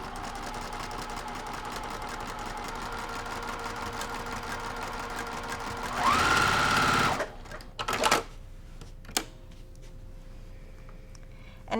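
A sewing machine stitching across a nine-patch quilt block, its steady motor whir running evenly for several seconds, then a brief louder burst and a few short clicks as it stops.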